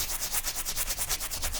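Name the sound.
scrubbing stains from Nike shoe toe box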